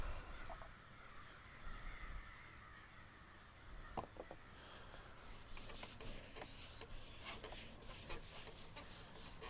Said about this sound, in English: Bunch of crows.